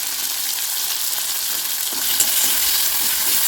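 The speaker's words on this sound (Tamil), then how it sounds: "நல்லா வதங்கி வரட்டும்." Tomatoes and curry leaves with salt sauté in a pan for a Chettinad-style dish, making a steady, close, hissing sizzle that swells slightly louder partway through, with no talking.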